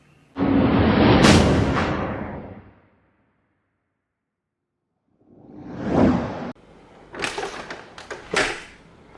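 A garage door monitored by a Wyze home sensor rumbles closed with a long swooshing slide, then after silence more sliding and clattering movements and sharp knocks follow.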